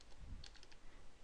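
Typing on a computer keyboard, a quick run of soft key clicks over roughly a second, fairly quiet and close, with no voices.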